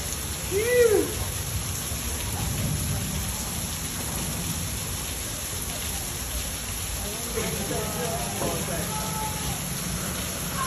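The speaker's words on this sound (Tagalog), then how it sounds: "Ayan, umuulan na naman." Rain pours steadily in Honolulu with a continuous hiss, while a person speaks briefly near the start and murmurs later over the downpour.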